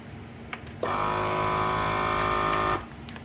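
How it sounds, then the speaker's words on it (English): A FoodSaver vacuum sealer closes a bag of broccoli with a loud, steady mechanical whir that lasts about two seconds, then cuts off. "the food saver machine"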